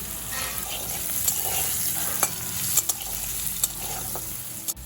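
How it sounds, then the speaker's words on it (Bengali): Small diced potatoes seasoned with salt and a pinch of turmeric frying in a pan over low to medium heat, an even close sizzle punctuated by occasional sharp utensil clicks. "এই আলুগুলো আমি ভালো করে ভেজে নেব।"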